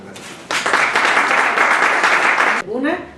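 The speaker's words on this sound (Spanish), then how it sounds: "Se merecen un caluroso aplauso" Toastmasters club audience in Mexico breaking into warm applause, a burst of clapping that starts abruptly, holds for about two seconds, then cuts off as a voice begins speaking.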